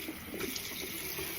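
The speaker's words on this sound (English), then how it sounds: "I rinse one last time with ice cold water" Ice-cold water runs steadily from a bathroom tap during a face rinse, a faint continuous hiss and splash with no voices.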